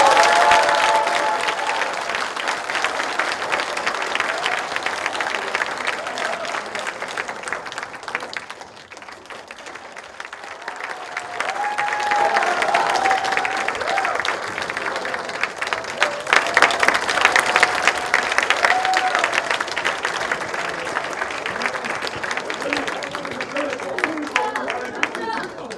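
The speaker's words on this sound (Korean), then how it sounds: "오늘 행사 당원 여러분들의 힘찬 박수로 마치겠습니다." Party members applaud at the close of a political party rally in Busan, sustained crowd clapping filling the hall, dipping briefly midway then swelling again, with scattered voices mixed in.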